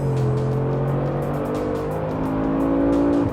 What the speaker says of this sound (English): this one now gets Mercedes AMG 4-litre V8.